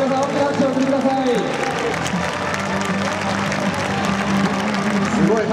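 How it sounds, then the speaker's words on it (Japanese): A stadium crowd claps loudly at a Tokyo Yakult Swallows baseball fan appreciation day, a dense sustained roar of applause with an announcer talking over it through much of the stretch. "すごい拍手ですね。"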